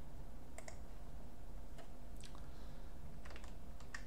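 Someone types on a computer keyboard at a command line, making a few soft, scattered key clicks in short bursts over a quiet room hum, close by and faint, with no talking.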